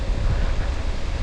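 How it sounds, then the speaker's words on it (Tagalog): Strong wind rushes in a cool outdoor spot with trees, a loud continuous blustery roar battering the microphone with no voices. "Malakas ang simoy ng hangin dito."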